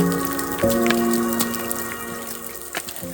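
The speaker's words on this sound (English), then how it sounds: "it looks like the rain is going to stay around for a while." Rain falls outdoors near a lodge on a hiking trail, scattered drops pattering and tapping at close range over a soft, steady wash.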